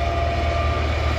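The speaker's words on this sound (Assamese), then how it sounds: "ওখন দেখিছেনে ট্ৰেইন" A train passing at night near a petrol pump, giving a steady, loud rumble with low droning tones and a constant mechanical hum, with no talking over it.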